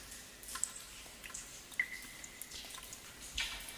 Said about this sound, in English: And I have this ambience cave sound.